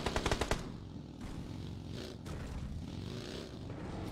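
Video game gunfire in a mobile multiplayer match, a quick loud burst of about five rapid shots at the start, followed by a steady wash of game noise and engine-like rumble.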